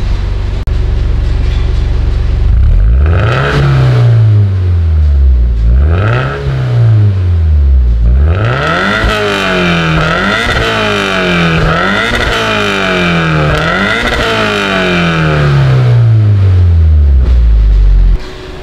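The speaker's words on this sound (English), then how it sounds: "do a little rev for you guys" A Toyota FT86 engine is revved repeatedly with an aftermarket exhaust. A steady idle gives way to a series of loud, close rising-and-falling revs that come quicker and stack toward the end, then it drops abruptly.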